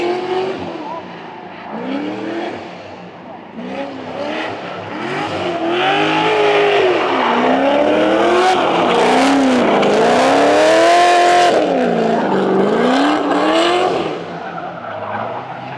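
A loud Corvette sports car engine revs and roars with rising and falling pitch, tires squealing, building to a sustained blare before easing off.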